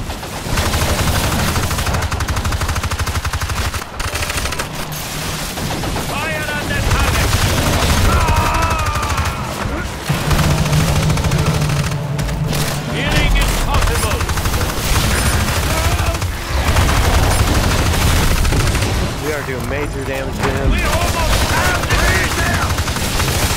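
Submachine gun fire in the video game Evolve, dense rapid bursts and booming blasts layered with game effects, loud and continuous throughout, with some voice mixed in.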